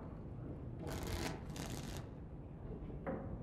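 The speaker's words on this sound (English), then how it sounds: "Before we start, the cards must be shuffled." A deck of cards being shuffled in Dragon Age: Origins, with two quick riffling bursts followed by a brief softer flick, close and crisp over quiet ambient background.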